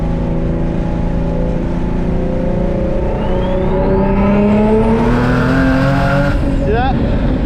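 Supercharged Nissan VQ-engine car accelerating hard, a loud close engine roar rising in pitch through the revs while the tires slide and squeal briefly near the end.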